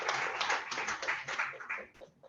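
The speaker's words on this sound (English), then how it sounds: "So a round of applause for Jazz" A small group claps for a youth services manager at a presentation, the scattered hand claps fairly near and dense at first, then thinning and fading out over about two seconds.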